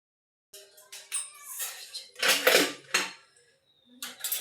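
Freshly washed steel dishes, pots and pans are set out on a rack, giving a series of close clinks, clatters and metallic knocks in irregular bursts with short pauses between them.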